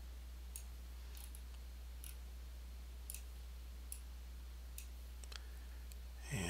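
Computer mouse clicks while rotating a character's limbs in animation software: a handful of faint, sharp clicks at irregular intervals over a steady low hum.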